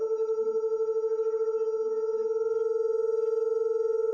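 Two pure tones 10 Hz apart sound together, producing a fast, steady wobbling pulse of beats that throbs evenly throughout, clean and alone with no voices.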